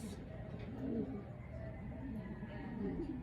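Racing pigeons cooing close by in soft, low repeated throaty calls over a steady background murmur.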